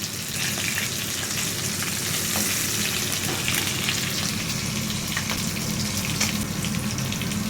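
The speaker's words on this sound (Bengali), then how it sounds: "এই যে এক দফা ভাজা হয়েছে এবার এক দফা ভেজে তুলে রাখছি" Chicken pieces fry crispy in a pan of oil with a steady, close, dense sizzle that runs throughout, with scattered crackles and pops and some stirring noise.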